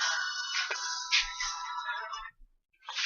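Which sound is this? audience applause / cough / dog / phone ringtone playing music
phone ringtone playing music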